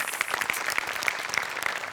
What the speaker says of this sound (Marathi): विनायक पुरुषोत्तमसाठी एकदा टाळ्या वाजल्या पाहिजे